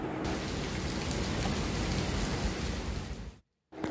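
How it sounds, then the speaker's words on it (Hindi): Heavy monsoon-season rain pours steadily onto a rooftop terrace, a dense, loud, continuous hiss of drops with no voices, cutting out abruptly for a split second near the end before resuming. "बारिश थी, बहुत ज़्यादा।"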